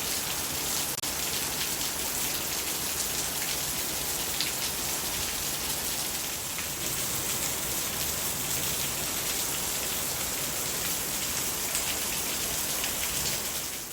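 Steady, heavy rain pattering on a surface on a rainy day in Kerala, constant and close throughout with no other sounds standing out.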